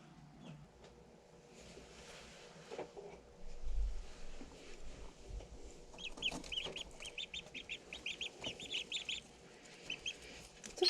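Young ducklings from a hatchery peep while being handled, giving a rapid run of high, thin chirps close by over faint handling noise.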